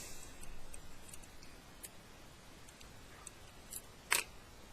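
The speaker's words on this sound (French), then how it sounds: "Je vais couper parce que ça me gêne encore." Scissors snip through paper in a few light, crisp cuts close by, with one sharper snip near the end over a quiet background.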